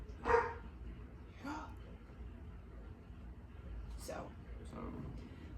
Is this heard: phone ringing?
no